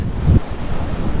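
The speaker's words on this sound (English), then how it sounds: "is the Pacific Ocean." Pacific Ocean surf washes in as a low, steady roar, with wind buffeting the microphone and one brief heavier thump near the start.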